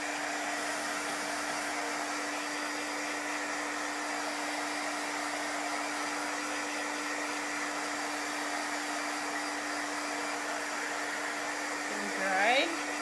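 A hair dryer blows steadily to dry chalk paste on a pumpkin craft, giving a constant close whooshing hum with a steady tone under it. A brief voice comes in near the end.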